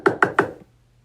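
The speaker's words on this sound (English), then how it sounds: "So finally, I got tired of knocking" Three quick, firm knocks on a bathroom door in an even rhythm, close and clear, followed by quiet.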